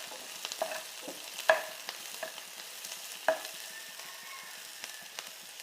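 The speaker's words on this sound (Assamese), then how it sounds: "অলপমান লৰাই দিওঁ।" Whole cumin seeds and finely chopped onion fry quietly in a pan as a spatula stirs them, with a soft sizzle under repeated scraping taps and two sharper clinks of utensil on metal.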